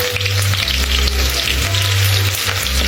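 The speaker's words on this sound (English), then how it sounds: "And then you throw in your onions." Onions frying in hot oil in a pot for jollof rice, a loud, steady sizzle with a low hum and scattered crackles that runs through the whole clip with no talking.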